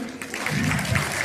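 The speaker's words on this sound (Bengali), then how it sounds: "সবার কাছ থেকে বলবো সাহেবদের জন্য আরো একবার হাততালি" At a children's annual dance show, an audience claps in a brief, dense burst of applause, fairly close and steady, with a faint voice underneath.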